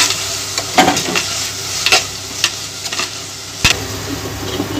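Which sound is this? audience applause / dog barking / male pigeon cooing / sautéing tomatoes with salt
sautéing tomatoes with salt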